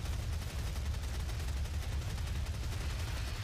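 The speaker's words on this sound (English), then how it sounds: "I should use the chain gun" A chain gun in DOOM (2016) fires a sustained, dense stream of rapid, heavy, booming shots that stays loud and steady for the whole stretch, with no voices over it.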